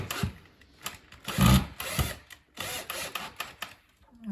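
Short bursts of a power drill driving 40 mm screws during a B109 assembly, close and fairly quiet, coming in uneven pulses with brief pauses between them.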